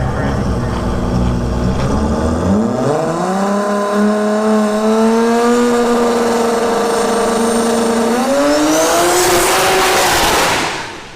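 A Nissan 240SX drag car launching down the strip: a loud, close engine roar climbs steeply in pitch, holds as the car pulls, rises again through a shift, then cuts off abruptly near the end.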